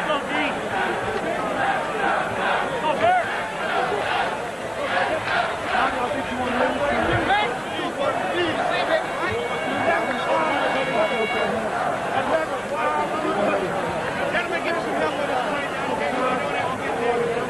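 A 1980 college football stadium crowd in Eugene for USC versus Oregon gives off a steady, dense rumble of murmur and chatter beneath a broadcaster talking throughout.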